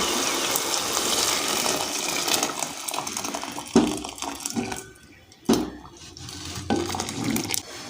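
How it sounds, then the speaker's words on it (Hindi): Milk is poured into a pan of roasted grated carrots for gajar halwa, a splashing, gushing stream of liquid with occasional clinks of a utensil against the pan and no talking. "हमने डाल दिया है दूध बीच में"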